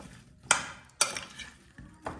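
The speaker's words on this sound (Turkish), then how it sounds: "şimdi bunları bir güzel karıştıralım" Potatoes for an oven-baked potato dish being stirred with a spoon in a bowl, three quick scraping clinks spaced about half a second apart, close and quiet, with no speech.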